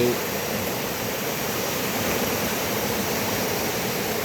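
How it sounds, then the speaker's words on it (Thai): Rushing water from a waterfall and flowing stream at Wang Takrai park fills the scene as a loud, steady broadband roar, continuous and unbroken, with no voices over it. "อันนี้เป็นอุทยานวังตะไคร้นะครับเอาเสียงน้ำไหล"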